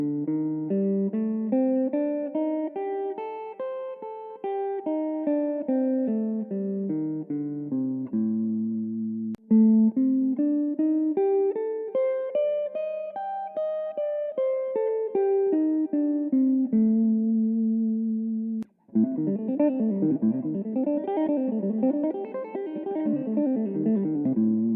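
Guitar runs a minor 7 flat 5 pentatonic line, single notes rising and falling in steady flowing phrases with brief pauses between passages and a busier final run, played cleanly and alone without speech.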